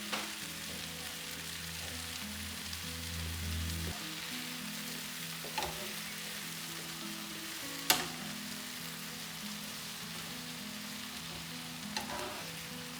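Chicken and fresh thyme sizzle steadily in a pan, with occasional clinks and scrapes of stirring over a constant frying hiss that lasts throughout.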